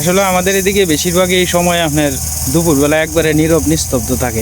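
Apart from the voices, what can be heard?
crickets chirping by a riverbank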